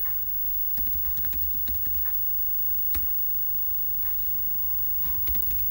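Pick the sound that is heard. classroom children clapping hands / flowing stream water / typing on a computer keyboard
typing on a computer keyboard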